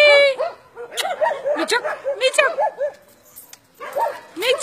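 A dog barks and yips repeatedly in short excited bursts close by during play, with someone talking and calling over it; a higher yelp stands out at the start.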